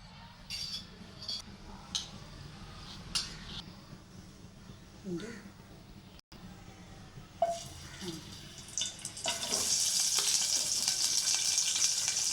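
Onion, tomato and green chilies hit hot oil in a pan for chicken skin curry: a few clinks and stirring sounds give way to a loud, steady sizzle over the final seconds, with a voice talking earlier.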